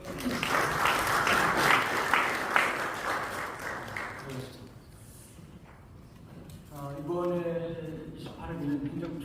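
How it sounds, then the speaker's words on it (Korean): Applause at a general assembly of a mission society board rises as a dense clatter of clapping for about four seconds, then fades, and a voice speaks over the hall afterward. "우리 같이 인사할 때 박수로 기원해 주시면 감사하겠습니다."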